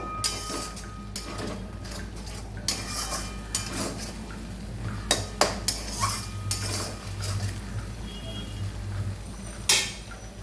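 Green chilies sauté in oil in a pan on low gas, with a spatula scraping and clinking against the metal in irregular taps over a faint continuous sizzle, close up.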